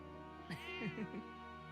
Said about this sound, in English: Look at the good kitty!